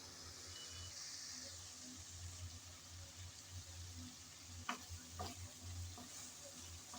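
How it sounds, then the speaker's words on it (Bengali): Spices cooking in oil in a pan for a Bengali teasel gourd curry, giving a soft, steady low sizzle with occasional faint stirring scrapes and clicks. "এখন অপেক্ষা করব যেন ভালোভাবে মশলা কষিয়ে আসে"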